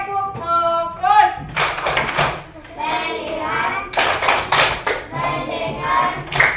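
Classroom clapping routine called tepuk fokus, with children clapping rhythmic bursts in a lesson on making a mini digital dictionary in Canva, mixed with a teacher's and kids' voices and some thumps.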